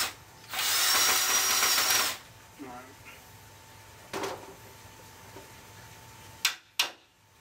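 A power drill whirs loudly for a couple of seconds while driving a screw into a wooden board for a haunted house wall, followed by quieter clunks and two sharp knocks.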